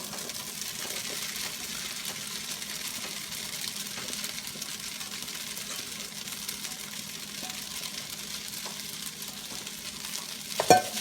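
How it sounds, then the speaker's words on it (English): Vegetables stir-fry with ginger and garlic in a hot pan, giving a steady, even sizzle and frying crackle that runs throughout with light stirring, and a short louder clatter near the end. "now we are going to add our veggies"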